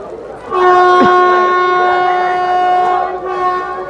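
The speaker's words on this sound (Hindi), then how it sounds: "कोई तो गाड़ी निकल रहा है बाजू से" A train passes on the next track at Dongargarh railway station, sounding a loud, sustained horn for about three seconds over a close rumble of rolling cars.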